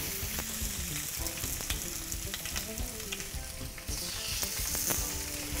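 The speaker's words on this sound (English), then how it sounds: "You can hear that sizzle." Chicken pieces sizzle and fry on a greased, hot grill pan, a dense steady crackle with sharp pops throughout, close and loud, with no talking.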